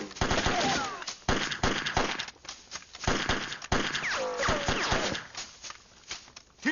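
Gunfire erupts in an anti-Japanese war action film scene, rapid bursts and single shots cracking in irregular rhythm, loud and close, with shouted voices mixed in.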